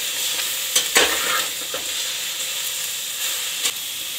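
Tomatoes and turmeric being stirred and fried in a pan, giving a steady soft sizzle with a few brief scraping clinks of the spoon, close and fairly quiet.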